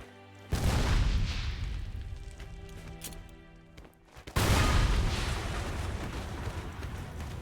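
Two heavy anti-tank grenade blasts from the Red Orchestra 2: Heroes of Stalingrad war game, each a loud booming burst with a long rumbling decay, spaced a few seconds apart.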